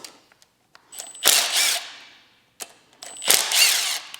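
Two short bursts from a power tool, likely an impact gun, as bolts are pulled from a Mitsubishi Evolution engine on a stand; each burst is loud and close, with light clicks between, and no speech.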